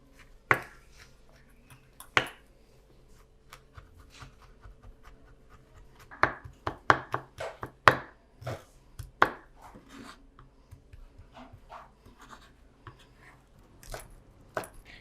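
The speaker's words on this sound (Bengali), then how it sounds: "এখানে আমি 4 কোয়া রসুন কেটে নেব এখন।" Knife chopping four garlic cloves on a board: a run of sharp, close taps, sparse at first, then quicker irregular bursts through the middle, with no talking.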